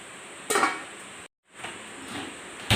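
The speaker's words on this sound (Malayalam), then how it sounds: "ഇനി ഇതൊന്ന് അടച്ചു വെച്ച് നമുക്ക് തിളപ്പിച്ചെടുക്കാം" A pot lid is set over a simmering curry of salted mango, giving a couple of clattering metal clanks about a second apart, the second softer, against a faint steady kitchen background with no talk.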